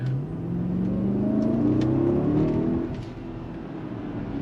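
A 2021 Mercedes-Maybach GLS 600, 550 horsepower, accelerates hard in sport mode, its engine note climbing steadily in pitch and loudness from inside the cabin before easing off near the end.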